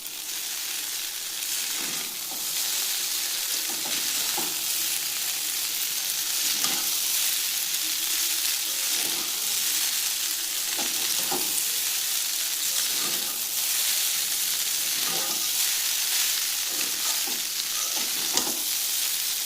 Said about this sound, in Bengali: ডিমগুলো দিয়ে দিয়েছি, এবার ভালো করে মিশিয়ে নেব